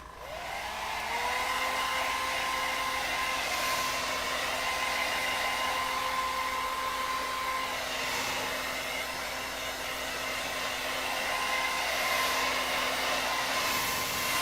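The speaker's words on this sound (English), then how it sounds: "hair dryer." A hair dryer blows steadily and loudly throughout, a constant whirring rush with a high motor whine and no pauses.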